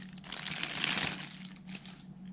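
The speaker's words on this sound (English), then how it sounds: "put on my new reel of tape on the other side." A reel of tape is loaded onto a UHER 4400 Report Monitor reel-to-reel recorder, heard as a brief burst of close crinkling and rustling handling noise with a small click near the end.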